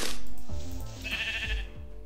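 A sheep in the Minecraft video game bleats, a short wavering cry rising briefly over background game music with a clear rhythmic pulse.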